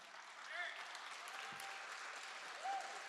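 Two people clap sparsely and faintly at a panel discussion at an atheist convention, a few thin claps in an otherwise quiet hall.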